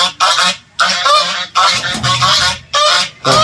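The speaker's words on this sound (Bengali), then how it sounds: "আর এখানে হাঁস আছে খুব সুন্দর বেশ" Ducks at an eco tourism park give loud, repeated honking quacks in close bursts, about five calls spaced by short pauses.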